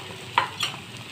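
Egg and chopped sayote being stirred together in a frying pan for a simple sautéed scrambled-egg dish, a soft sizzle broken by two brief scraping strokes of the spoon, close and quiet, with no talking.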